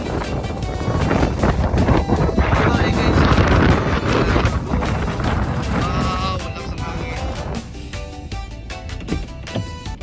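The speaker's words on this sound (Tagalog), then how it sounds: "Ang laki ng hangin, grabe." Strong wind gusts roar and buffet the microphone outdoors, loud and continuous, while a voice talks faintly underneath.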